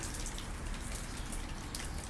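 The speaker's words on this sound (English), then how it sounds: "Beautiful sun, but raining." Steady rain patters and drips on surfaces outdoors during a sunshower with barely any cloud overhead, a dense, even hiss of drops heard close by and without voices.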